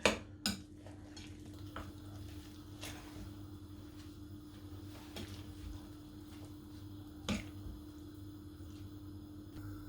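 Potato, onion and green chili being mixed for pakoda, a few faint clinks and scrapes against a bowl over a quiet background hum, no talk.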